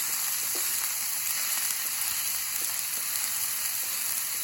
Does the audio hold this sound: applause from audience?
no